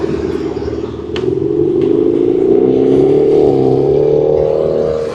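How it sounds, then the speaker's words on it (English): Car engine revving on a street: a loud, close engine note climbs in pitch and holds, with brief clatter early on and no talking. "It's a cool car."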